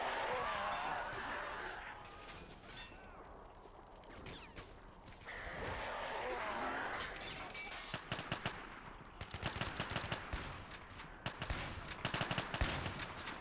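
Rapid bursts of automatic gunfire ring out in a zombie map of a video game, swelling into dense crackling volleys toward the end, close and loud, with other game effects underneath.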